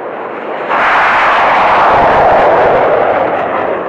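A Saab Gripen fighter jet passes during training flights at an air base, giving a loud, continuous broadband roar that swells after the first moment and holds steady to the end.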